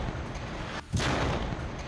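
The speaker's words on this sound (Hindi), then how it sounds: "जेनिन में फिलिस्तीनी वेपन डिपो पर इसराइल ने विध्वंसक एयर स्ट्राइक आईडीएफ ने विस्फोटकों से भरी बिल्डिंग को नेस्तनाबूद कर दिया" An Israeli airstrike hits a Palestinian weapons depot in a building packed with explosives in Jenin, setting off one loud, sudden blast roughly midway through that cuts through a dense, rumbling background and leaves a heavy roar behind it.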